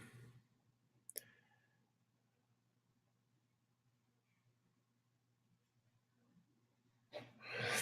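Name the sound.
mouse click on assign button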